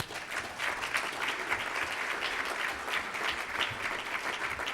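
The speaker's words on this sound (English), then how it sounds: "Yeah, big round of applause." An audience at the MassBio annual meeting gives a steady round of applause, dense hand-clapping filling the hall evenly for several seconds.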